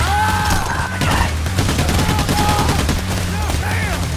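Rapid automatic gunfire in a heavy firefight in the video game Payday: The Heist, loud and continuous, with brief electronic tones over the shooting.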